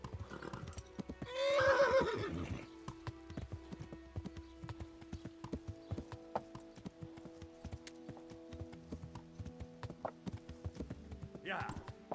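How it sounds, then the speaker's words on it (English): A horse in a fantasy role-playing game gives a loud neigh early on, then its hooves clip-clop steadily at a walking pace for the rest of the stretch, with no talking. "Yes, my horse does neigh."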